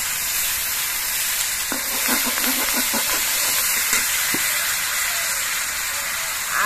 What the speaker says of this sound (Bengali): এবার এর মধ্যে আদা বাটা দিয়ে দিচ্ছি। দিয়ে দিচ্ছি রাঁধুনি বাটা।